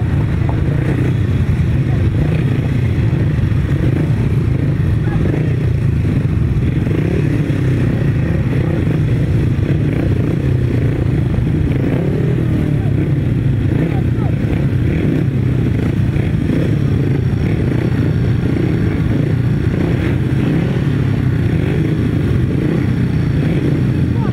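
Motorcycles racing on a grasstrack roar continuously and loudly for the whole stretch, a dense, unbroken engine drone with rough, clattering texture.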